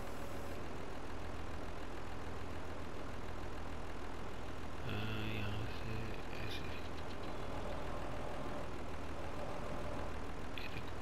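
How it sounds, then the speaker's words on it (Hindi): A tractor engine in the Farming Simulator 22 video game drones steadily while hauling a log through a forest map. The low, continuous idling rumble stays even throughout, with a brief mechanical clatter partway through. "अभी इस ट्रैक्टर को ऐसे आगे ले जाएंगे हम, तो ये लकड़ी अपने पीछे पीछे चलेगी।"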